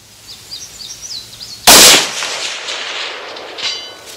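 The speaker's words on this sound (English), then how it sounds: "I'm shooting for my smaller target up there." A single sharp, loud crack from a Howa .308 precision rifle in a carbon flag chassis, fired outdoors at a target in wind, with a long echoing decay after faint birdsong.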